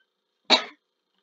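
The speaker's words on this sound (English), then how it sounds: "It's just a cough. I had to clear my throat." A single short cough with a bit of throat clearing, heard alone against silence, brief and fairly soft.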